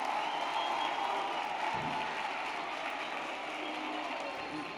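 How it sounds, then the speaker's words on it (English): Audience applause for graduates at a University of South Africa autumn graduation ceremony, a broad sustained wash of clapping in a large hall, moderately distant and even, with no voices over it. "can we give a round of applause to our graduates?"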